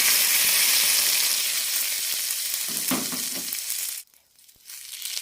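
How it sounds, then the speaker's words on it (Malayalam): Mustard seeds, curry leaves and urad dal crackle and sizzle loudly in hot oil for a curry tempering, a dense steady frying hiss that cuts off abruptly near the end, leaving a quieter faint sizzle. "കടുകും കറിവേപ്പിലയും ഉഴുന്നും ഇട്ടിട്ടാണ് തളിച്ചിരിക്കുന്നത്"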